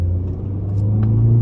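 A 2022 Toyota C-HR XLE with a CVT pulls away from a standstill, its engine a steady low hum that grows slightly louder under acceleration, heard from inside the cabin with no talking.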